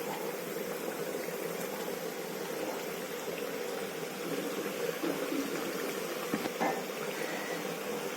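Drumstick leaf pakoras fry in hot oil, a steady dense sizzle and bubbling hiss that holds evenly throughout with no talking.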